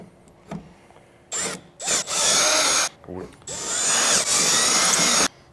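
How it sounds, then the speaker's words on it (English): A power drill with a 5/16 bit bores through fiberglass on a Jeep Wrangler roof rack install, several loud close whining bursts of varying length separated by short pauses. "5/16 to drill it out."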